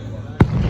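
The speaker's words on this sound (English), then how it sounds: "I saw the firework, but I mean, hear it." A single Fourth of July firework bursts with a sharp, loud boom partway through, followed by a rumbling tail over outdoor crowd noise.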